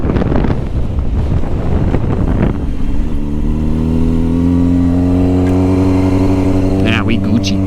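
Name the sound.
strong storm wind blowing on GoPro microphone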